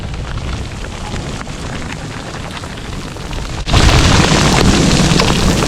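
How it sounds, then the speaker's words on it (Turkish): Dense, steady rattle of large hail pelting a bicycle helmet close by, growing sharply louder partway through and continuing as a heavy, noisy downpour. "Tak tak diye kaskımdan ses geliyor."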